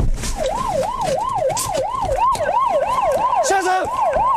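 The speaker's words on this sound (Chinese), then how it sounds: "巡逻车鸣笛展开追捕" A police patrol car siren wails in a steady, rapid up-and-down cycle during a chase, loud and close, with a brief lower-pitched tone joining near the end.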